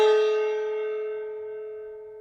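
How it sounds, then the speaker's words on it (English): A single gong struck once, ringing with a bright metallic attack and a long, steady, fading hum of layered tones, close and loud with no talking. "we're going to begin our story time by banging the gong,"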